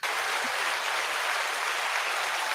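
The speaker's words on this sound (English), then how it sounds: "Round of applause for both of them." A podcast studio audience gives a round of applause, a dense, even wash of many clapping hands that starts abruptly and carries on loudly and steadily with no talking.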